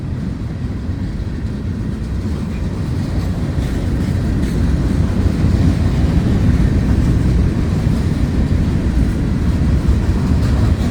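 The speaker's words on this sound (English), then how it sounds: "Looked like a pretty long train from the 312 bridge." A long empty rock freight train of hoppers and gondolas passes near Bayard, Jacksonville, Florida, a steady loud rumble and wheel roar that holds and swells slightly over eleven seconds, with no voices.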